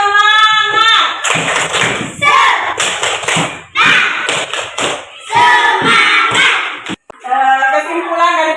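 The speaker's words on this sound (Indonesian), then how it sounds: "Tepuk semangat." A primary-school class performs a rhythmic spirit clap, sharp hand claps and thumps falling in quick patterned bursts, mixed with children's voices chanting along in a loud, lively classroom.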